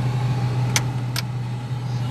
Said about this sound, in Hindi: engine sounds good